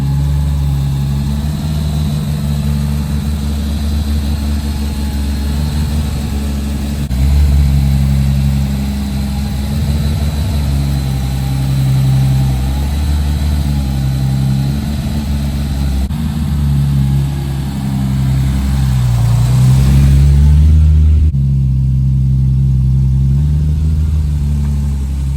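A BMW E30 with a swapped S38 engine idles loudly and steadily at close range with a deep rumble. The engine rises and dips a little as it finally moves off, with a brief swell near the end and no talk.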